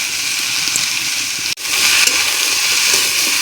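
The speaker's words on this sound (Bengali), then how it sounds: "লাউটা দিয়ে আবার সুন্দর করে কষিয়ে নেব" Bottle gourd and pumpkin sauté in a hot pan, giving a loud, steady, broadband sizzling hiss up close that drops out sharply for an instant midway and then resumes at the same level.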